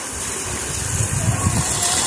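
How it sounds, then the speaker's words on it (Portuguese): Clean water pouring into a pool in a creek, a loud continuous broadband rush with a rumbling low churn that swells slightly toward the end. "depois ele começa a cair água limpa"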